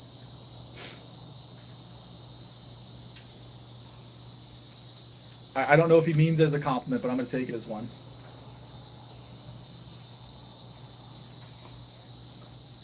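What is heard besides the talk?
bugs chirping outdoors in the South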